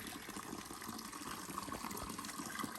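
Spring water in a mountain village pours in a steady, soft gush from a spout into a mug, running continuously with no voices.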